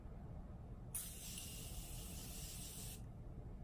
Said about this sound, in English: I am gonna set my face with the Morphe setting spray and just see if this can save it at all.